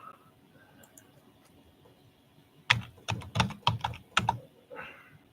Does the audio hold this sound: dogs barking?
no